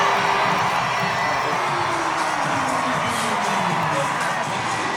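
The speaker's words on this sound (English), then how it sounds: "In front of a raucous crowd here in Fenway." A raucous crowd cheers at a Savannah Bananas Banana Ball game in Fenway Park, a dense, steady roar of whoops and shouts filling the whole stretch with no break.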